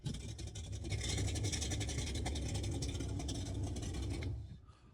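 Synthetic V8 rumble played through a Tesla Model X, a dense low-pitched engine roar held steady for about four seconds before cutting off abruptly, loud and without speech.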